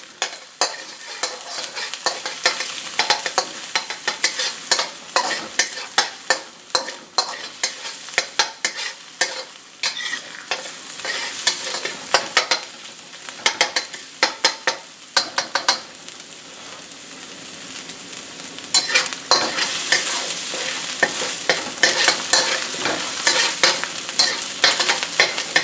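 Sizzling pan of aromatics frying for beef and Hatch chili, stirred steadily with repeated scraping strokes, a dense crackle that grows louder and fuller toward the end, no voices.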